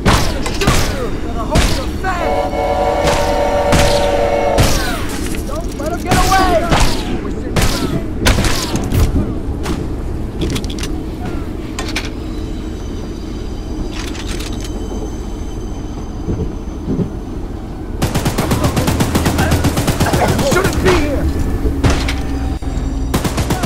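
Gunfire in the horror game Choo Choo Charles, with sharp repeated shots and clanking impacts over a droning background, a burst of louder noise near the end, and voices shouting during the action.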